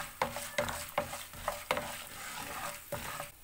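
Urad dal and peanuts roasting in a pan with a spatula, a series of crisp scraping stirs at an uneven rhythm over a light sizzle, close and fairly quiet.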